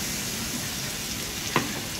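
Green chilli paste made with garlic and coriander sizzles steadily in hot oil with onions, a dense, continuous close frying hiss with one brief clink near the end.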